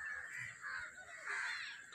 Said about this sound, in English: Black crows sitting on the pigeons, Indian Gaur, Indian wild buffaloes.